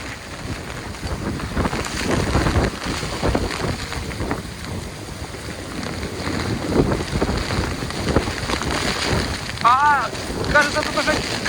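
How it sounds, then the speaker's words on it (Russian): Strong storm wind roars and buffets the microphone on the Lazarevskoye seafront at night by a rough sea, a loud continuous broadband rush with gusts. A brief voice-like sound comes near the end. "Ветер действительно сумасшедший."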